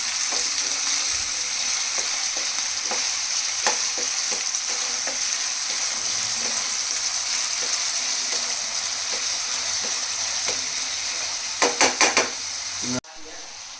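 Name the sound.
onions frying in a pan until brown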